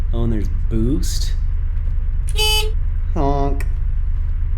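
Repeated honking car horn from a driving video game, a few bright harmonic toots spaced across the stretch over steady engine rumble, with a voice speaking in between.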